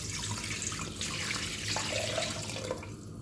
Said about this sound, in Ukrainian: Рибу переклали в кастрюлю і тепер заливаємо водою